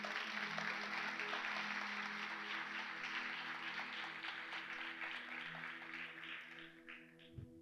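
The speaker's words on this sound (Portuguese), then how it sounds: "E você pode aplaudir a Jesus." Congregation applauding during a church service for Jesus after a healing testimony, a steady dense wash of clapping with sustained music tones beneath, easing slightly toward the end.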